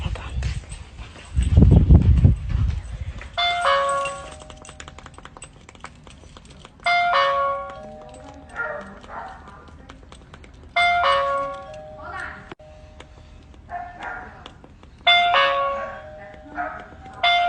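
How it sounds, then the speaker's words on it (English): A two-tone doorbell chime rings four times at regular intervals, with clicking and a brief dog whimper near the start. "I can hear the doorbell ringing"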